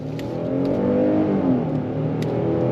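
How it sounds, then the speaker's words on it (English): A 2025 Kia Telluride V6 midsize SUV accelerating on throttle, its engine drone rising steadily from inside the cabin at moderate volume, with no talking. "Let's go on throttle. You ready? On throttle, here we go."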